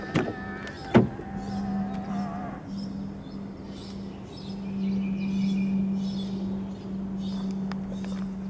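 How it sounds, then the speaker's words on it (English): 2017 BMW X5 xDrive40e side mirrors folding in electrically, a steady motor hum lasting several seconds after a click, heard up close outdoors with faint birds behind. "Long press the ribbed area to fold the side mirrors in."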